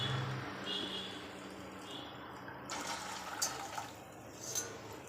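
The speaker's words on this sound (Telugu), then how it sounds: "నీళ్ళు పారబోసేసి" Water is poured off from a cooking pot of brinjal curry with spiced powder, giving a soft continuous splash and trickle that stays fairly faint and close. A few brief louder splashes come near the end.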